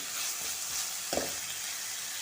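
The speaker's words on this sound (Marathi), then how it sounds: "एक दोन मिनटं परतून घेते तर हा कांदा व्यवस्थित असा परतून घ्यायचा" Chopped onion sautéing in a pan, a steady close sizzle with faint stirring scrapes and one brief clack partway through; no voices.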